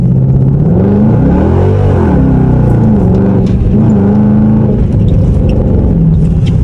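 A Dodge R/T with its mid mufflers cut roars loud and close, the engine revving up and dropping back in a series of deep, raspy swells that rumble steadily through the whole stretch with no pause.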